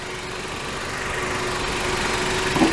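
A 2012 Honda Civic EX with a 1.8-liter inline four-cylinder VTEC engine idles steadily, heard close up with the hood open, a smooth even drone that rises slightly near the end.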